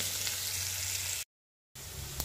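Onions fry in hot oil with a steady, even sizzle that cuts out briefly to silence, then resumes at the same level, with no voices.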